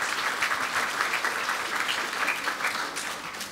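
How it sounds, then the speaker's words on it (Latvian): Steady applause from a seated audience at a Precision Medicine Coalition meeting, the PMNET Forum 2025: many hands clapping densely and evenly throughout, fading slightly at the very end. "Aplausi!"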